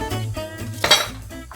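Dry pasta dropped into a metal pot for boiling makes a brief cluster of clinks and rattles against the cookware in a home kitchen, with one sharper knock near the middle.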